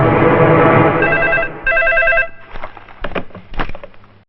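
An old-style telephone bell rings loudly in a couple of bursts, then stops, followed by a few knocks and rustling handling sounds.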